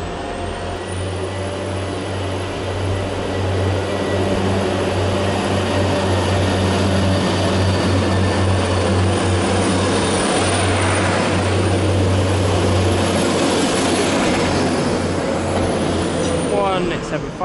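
A Class 175 diesel multiple unit, number 175108, runs past on a service to Manchester Airport, its loud droning engine and rumble filling the scene steadily throughout, close by.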